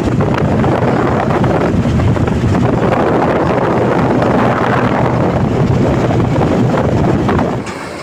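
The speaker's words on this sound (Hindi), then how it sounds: "इस ट्रैक्टर में बैठ के मैं अभी ये ट्रैक्टर जहाँ काम करने वाला है मैं वहाँ जाने वाला हूँ" A tractor engine runs while someone rides in the cab, heard as a loud, continuous rumble heavily buffeted by wind noise, with no breaks until it eases slightly at the very end.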